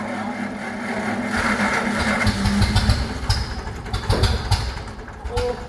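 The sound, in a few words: old engine trying to start cold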